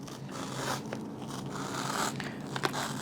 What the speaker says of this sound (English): We're going to cut down 8 mil again on an angle.